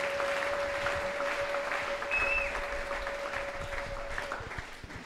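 A church congregation applauds together in a steady, dense wash of clapping that holds for several seconds, with a sustained tone running beneath it.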